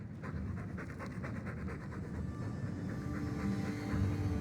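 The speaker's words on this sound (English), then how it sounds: "All that noisy dog breath, day in, day out." A dog pants rapidly and continuously in the video game Dragon Age 2, close and fairly loud breaths in quick rhythm over a low background rumble, with no talking during it.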